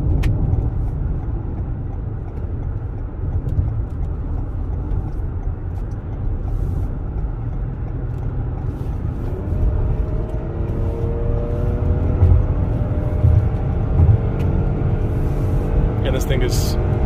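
A 2021 Toyota Highlander cruises on the road, its steady low engine and tyre rumble running continuously from inside the cabin, with a person talking over it throughout.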